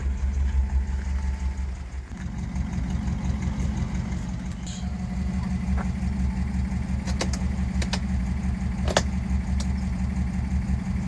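A 1955 Ford Fairlane Sunliner convertible with a 272 V8 idles steadily with a deep, even rumble, while a few light clicks and knocks occur around it.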